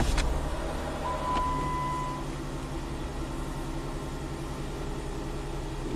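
A Jeep engine with a suspect timing job and a cam correlation fault starts and settles into a steady, close idle, with a low even rumble and no talking over it.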